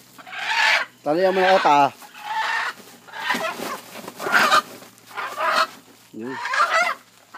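A native chicken clucks and squawks in loud, jerky bursts as it is grabbed by the feet, with people talking close by between and over the calls.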